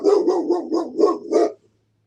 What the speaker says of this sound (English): I heard my outside dog bark and my inside dog.